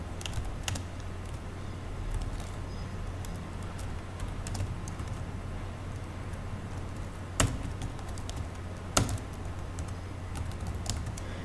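Steady keystrokes tap on a computer keyboard throughout, a close, even patter over a low background hum, with two louder isolated clacks near the end.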